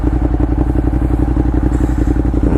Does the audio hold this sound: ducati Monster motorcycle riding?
yes